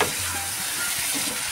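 Spice masala for chicken and potato curry sizzling loudly in hot oil as it is stirred, a dense close hiss with soft scraping throughout the short stretch.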